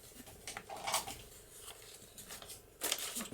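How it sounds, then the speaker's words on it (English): Scissors snip the four corner sections out of a sheet of craft paper, a few soft crisp cuts with quiet rustling between them, brightest near the start and again toward the end. "Now we're going to cut the 4 corner sections out."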